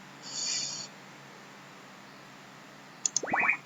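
Respawn game sound effect from FreeSound, used in a Unity 3D game when a character is hit: a short bright tonal chime, a pause of near silence, then quick blips and a swooping boing-like descending flourish.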